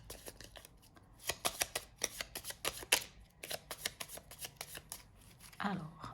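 Tarot cards riffled and cut in a series of quick crisp flicks and slaps, close and fairly quiet, with a brief voice near the end.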